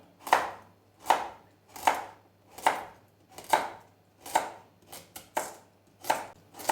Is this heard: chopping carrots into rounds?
yes